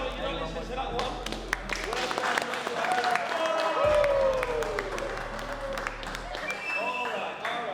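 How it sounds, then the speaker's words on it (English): Applause from a community gathering in Burngreave, Sheffield, with a steady wash of clapping mixed with voices and crowd noise, a whistle-like tone rising through the middle. "Round of applause"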